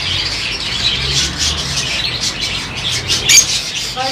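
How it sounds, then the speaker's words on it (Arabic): Many birds chirp and squawk together in a steady, busy chorus at a bird market in Salé, Morocco, with a sharper call breaking out near the end. "كاين انواع اشكال ديال الطيور"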